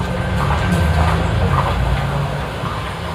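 Loud, continuous rumble of a metro train in motion, a dense low roar with rattling carriage noise throughout, used as a running-train effect with no speech.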